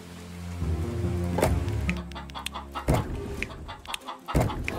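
Chickens in the city-building game Laysara: Summit Kingdom cluck repeatedly over a dense, continuous ambient bed of game sound, with several louder squawks standing out.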